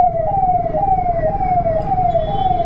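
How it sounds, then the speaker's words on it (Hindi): Wailing siren of an Uttarakhand ambulance on a mountain road on the route to Kedarnath, loud and near, rising and falling steadily over a low vehicle rumble. "और उत्तराखंड एम्बुलेंस भी सेवा में लगी हुई है।"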